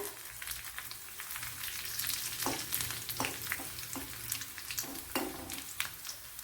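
Dried red chillies frying in hot oil for a cashew nut thoran, a dense crackling sizzle with rhythmic spoon stirs and scrapes, close and continuous.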